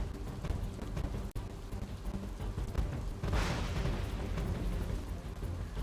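Heavy monsoon rain pours down in Chikhli taluka, Navsari, Gujarat, a steady dense roar with a brief dip and a louder surge of spattering midway, with no voices.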